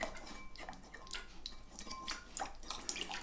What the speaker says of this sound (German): Dann tun wir da etwas Wasser gleich zu,